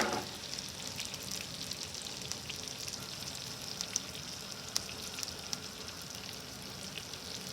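Butter and Old Bay sauce cooks in a pan for a salmon dish, giving a soft, constant sizzle with faint crackles and an occasional pop, close but quiet, with no talking.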